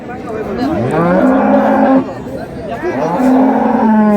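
Dairy cows and calves at Raniganj cattle market in Dinajpur low loudly and close by, two long drawn-out moos with a short pause between them.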